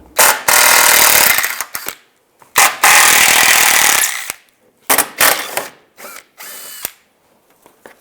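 A power tool with a 10mm socket runs in several loud, close bursts of uneven length, some long and some short, while removing bolts during PCV valve replacement on a 2010-2015 Toyota Prius. No one speaks.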